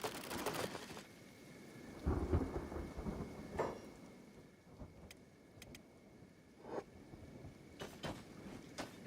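Acid rain and thunder in the game Kenshi: a steady rain hiss runs throughout, with low thunder rumbles swelling and fading several times and a few sharp crackles near the end.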